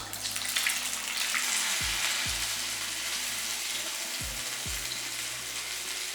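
Urad dal vadas, made without soda or raw rice, fry in hot oil with a loud, steady bubbling sizzle, while a few low thuds land as more dough is dropped in.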